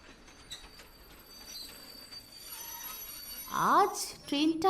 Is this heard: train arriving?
yes